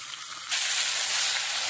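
Sponge gourd (dhundol) pieces hit hot oil in a pan and break into a sudden, steady loud sizzling hiss after a brief quieter moment.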